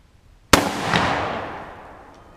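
A single loud, sharp gunshot from a gun firing a .308 Hornady hollowpoint round into a phonebook, with a long rumbling echo that fades over about two seconds outdoors.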